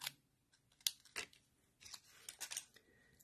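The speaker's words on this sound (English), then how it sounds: "Just cut it along here, freehand." Scissors snipping freehand through stamped craft paper, a few sharp, quiet cuts spaced irregularly with a short rustling run near the end.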